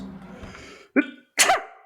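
A short breathy intake and a brief sound give way to a single sharp sneeze, close and fairly loud, then quiet.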